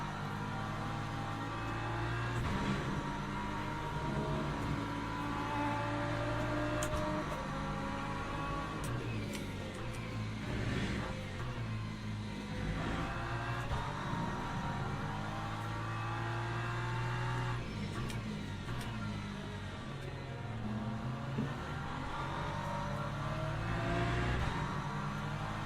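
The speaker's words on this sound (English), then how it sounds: "here come the LMP2s." LMP2 prototype race cars scream past one after another in the Le Mans Ultimate sim at Imola, engines wailing loudly, rising and falling in pitch as they approach and recede, with no talking.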